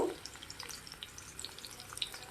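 Eggs frying in a pan give off a soft, steady sizzle with scattered light crackles and pops, quiet and close, with no talking.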